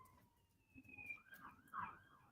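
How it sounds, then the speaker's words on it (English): Wailing emergency sirens pass by outdoors, a rising and falling tone heard faintly at a distance through a home craft session, growing slightly louder toward the end. "Oh, here's sirens going on."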